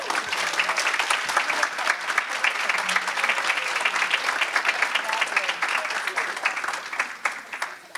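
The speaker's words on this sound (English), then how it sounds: "Let's give her another round of applause" Steady applause from a luncheon audience at a women's political action committee event, dense continuous clapping that stays loud and full for several seconds before easing slightly at the end.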